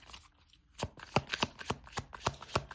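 Oracle cards shuffled by hand in a rapid series of crisp, riffling bursts at an even rhythm, close and fairly loud, after a short quiet start.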